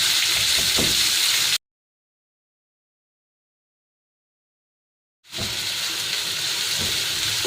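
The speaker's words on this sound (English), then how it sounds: "we'll stir fry this" Onions stir-frying in a pan give a steady hissing sizzle that breaks off into several seconds of silence, then resumes just as strongly.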